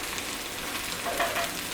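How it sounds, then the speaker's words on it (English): A T-bone steak sizzles steadily in a pan over low heat, a continuous close hiss and crackle with no voices. "You can hear it sizzling or whatever the case may be."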